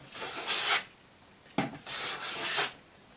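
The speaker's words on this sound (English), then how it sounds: "So what you need to do is plane it, getting fine shavings, to get a nice flat surface." A hand plane takes fine shavings off a wooden guitar part in three close, rasping strokes with short gaps between them.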